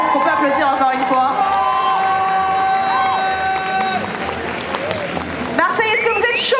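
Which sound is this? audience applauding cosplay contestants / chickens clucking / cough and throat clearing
audience applauding cosplay contestants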